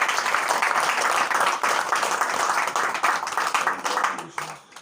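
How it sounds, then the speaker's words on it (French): A congregation clapping during a church sermon on living with persecution, a loud sustained crowd of hands clapping together that thins and fades over the last second, with a voice faintly beneath. "On applaudit pour le Seigneur."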